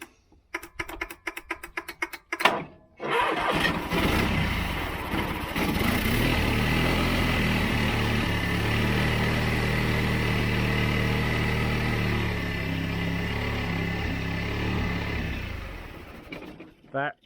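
Sharp clicks and rattles from a Honda 3813 two-cylinder tractor, a barn find unused for 15 years, running on sprayed fuel, then the engine catches and runs steadily and loudly for about thirteen seconds before dying away.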